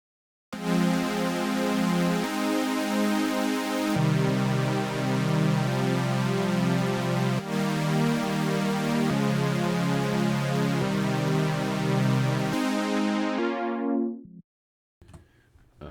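A sustained synth chord progression, loud and steady, changing chords every couple of seconds, with a filter sweep closing off the bright top before it cuts out.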